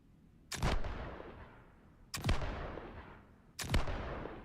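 Three heavy cannon blasts from the survival train in the game Heat Death: Survival Train, each a sharp booming shot followed by a long rumbling decay, evenly spaced about a second and a half apart with no talking.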